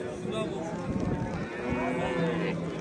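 Calf lowing at a busy livestock market in rainy, cold weather, a few drawn-out bovine calls mixed into steady crowd chatter and market noise that runs throughout.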